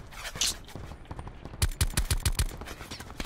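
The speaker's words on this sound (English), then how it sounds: "Getting shot from the left side now." A rapid burst of automatic gunfire in Call of Duty Blackout, roughly ten close, punchy shots in quick succession after a short stretch of quieter rustling and ambient noise.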